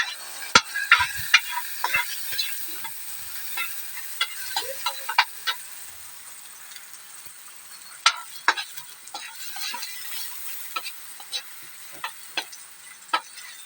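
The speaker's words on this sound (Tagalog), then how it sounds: "Ilagay na natin yung bawang." Chopped garlic frying in hot oil in a pan, with a steady soft sizzle and scattered sharp crackles and clicks of stirring throughout, fairly close and moderate in level, no talking.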